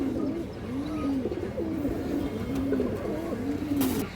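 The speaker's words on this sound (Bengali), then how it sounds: "খুবই সুন্দর একটা আর্মি মাদি কবুতর" An army-breed female pigeon coos in a steady repeating rhythm of soft rising-falling calls, close by, over a low background hum with no speech.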